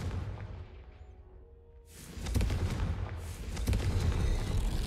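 A Confringo fire spell blasts in Hogwarts Legacy, heard as a loud booming burst at mid-clip followed by a second rumbling explosion, over continuous game background noise.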